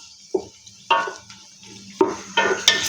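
Chicken goes into a pan for yakhni pulao and is stirred, producing several distinct scraping, clattering stirs with light sizzling between them, close and fairly loud.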